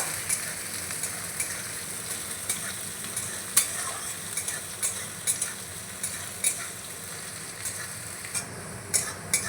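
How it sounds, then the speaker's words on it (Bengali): Large chopped onion frying in a pan until brown, a steady close sizzle broken by regular scraping strokes of a spoon stirring it through the oil, with no talking. "পেঁয়াজটা আমি বাদামি করে ভেজে নেব"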